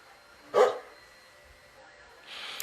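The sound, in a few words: dog barking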